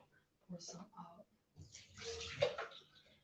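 Excess water is poured out of an Optimum 9200A blender jug, a close splashing pour lasting about two seconds after some brief quiet speech.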